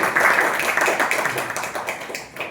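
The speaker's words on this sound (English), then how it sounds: "So good round of applause to everyone." Brief hand clapping from a small audience at a Toastmasters club meeting, close and fairly loud at first and fading out after about two seconds.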